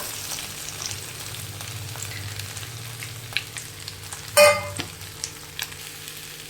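Coconut and raw mango chutney with green chilli paste is stirred into a hot tempering. A low, steady sizzle carries soft scraping strokes, and one sharp clank stands out near the middle.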